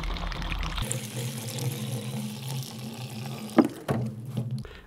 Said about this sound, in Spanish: Y vamos llenando la botella de agua.